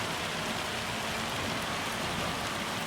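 Steady, dense rainfall in Farming Simulator 25, an even hiss of drops filling the whole stretch with no pauses and no voices.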